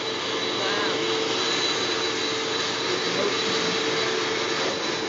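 A navy jet engine roars at full power as a steady, loud, unbroken broadband blast lasting the whole stretch, with no pauses or changes in pitch.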